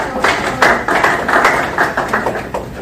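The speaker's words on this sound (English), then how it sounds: "Round of applause." Applause breaks out at a Wellington, Kansas city council meeting, a modest round of steady clapping heard close and fairly loud for a few seconds.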